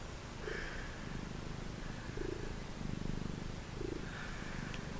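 A cat purring on a mink blanket on a cold winter night, a soft steady rumble close by with a few slightly louder swells, alone with no voices.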